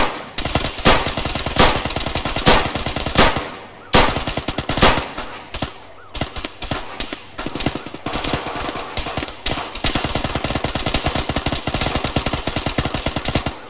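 Loud, rapid automatic gunfire from the video game Malden Five-0 rattles on in sustained bursts, with only brief breaks between volleys.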